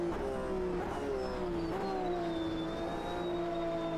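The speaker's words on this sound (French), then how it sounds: "gros freinage" Race car in the AMS2 sim racing game at Sugo circuit under heavy braking, engine note dropping steadily with a downshift blip, loud and continuous throughout.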